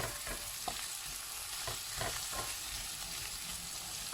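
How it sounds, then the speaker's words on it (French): Onions sizzling as they fry in a pan, a steady close crackle with occasional scraping stirs breaking through. "Donc les oignons, là, on va bien les laisser cuire."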